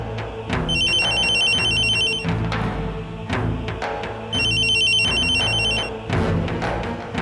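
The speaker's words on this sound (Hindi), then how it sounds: "दादाजी का फोन।" A telephone rings indoors in two long bursts of electronic trilling, each lasting about a second and a half with a pause between, over a steady low hum and scattered background noise.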